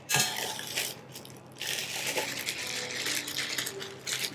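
Cornstarch dumped into a big bowl, a short soft rushing pour followed by faint settling and rustling, quiet and close with no talking.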